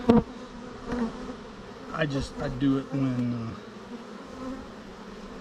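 Bees buzzing loudly and close during a bee attack, their droning whine rising and falling in swells while someone talks briefly over it.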